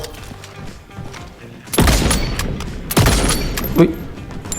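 Two loud, booming sniper shots ring out from an M700 rifle with a SERAPH skin in a shooting video game, each a sharp blast with a decaying tail, spaced about a second apart. Quieter game sounds play around them.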